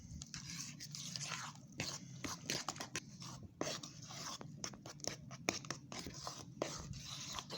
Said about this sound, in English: Make sure you combine everything together